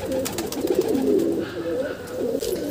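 Pigeons coo softly in a loft, their low rolling calls repeating close by while someone talks over them.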